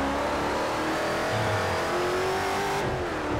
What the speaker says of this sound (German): hier draußen vor der Haustür höre ich gerade den 800 PS Camaro losfahren